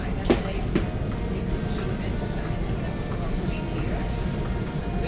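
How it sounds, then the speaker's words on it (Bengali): Inside a local passenger train in the Netherlands, bound for Rotterdam, a continuous low rolling rumble and cabin noise fill the whole stretch, with faint brief clicks and occasional talk under it. "আমরা এখানে একটা লোকাল ট্রেনে চেপেছি"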